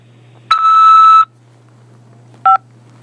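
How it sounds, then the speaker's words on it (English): A steady electronic telephone beep lasting under a second on a prison collect call, then, after a pause, one short keypad tone, both loud and clear over a faint low hum. "After the beep, press 5 to accept this call."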